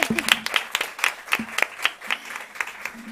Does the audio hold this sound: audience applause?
yes